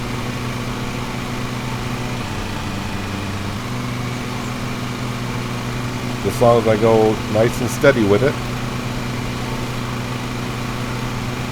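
A lawn mower engine in the Lawn Mowing Simulator video game drones steadily throughout at even volume while someone talks briefly over it.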